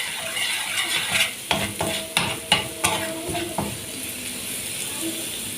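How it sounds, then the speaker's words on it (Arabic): Garlic frying and being stirred in a pan for a traditional khobeiza (mallow) dish: a steady sizzle with a run of sharp scraping stirs in the middle, close and fairly loud, no talking. "هنحمر التومه بالشكل ده كده، بس اهم حاجه ما نحرقهاش عشان ما تمررش معانا"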